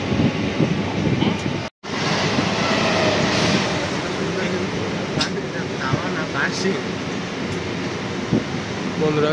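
A Sealdah–Chakdaha suburban local train pulls out of Halisahar station, its carriage filled with a loud, steady rolling rumble and faint rail clatter, interrupted once by a momentary cut, with passengers talking over it.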